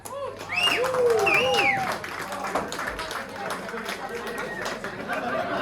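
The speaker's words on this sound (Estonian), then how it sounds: "Aplaus!" An audience applauding at an event, a burst of clapping and crowd chatter that swells early and then thins into scattered claps under loud whistling and voices.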